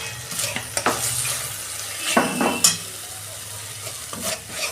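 Spices with turmeric, a splash of water and roasted cumin powder fry in a pan for a bottle gourd and prawn curry. A steady close sizzle runs throughout, broken by several scraping stirs, with no talking.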